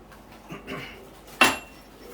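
Crushed ginger drops into a metal tea pot with a single bright clink, preceded by a few soft kitchen scrapes and handling sounds in a quiet room.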